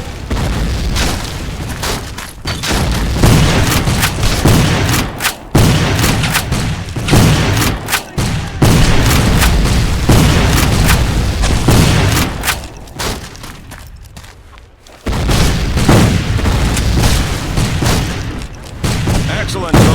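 Civil War video game battle with dense, loud musket gunfire and booming artillery firing in rapid overlapping bursts for the whole stretch, a shouted voice mixed in.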